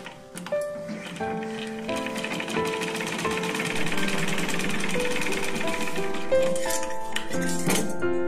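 A sewing machine stitching a blouse, running in a fast, even mechanical rattle with a whirring motor tone, starting up and carrying on steadily close by.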